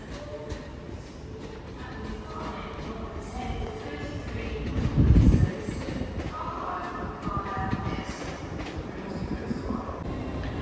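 Class 156 diesel unit 156447 pulling out of Newcastle station, a steady rumble of engine and wheels with a brief louder low burst midway amid station ambience.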